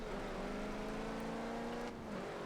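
A diesel car engine in Forza Horizon 4 holds a steady, droning rev with a rising tone, heard alone and fairly faint for a couple of seconds.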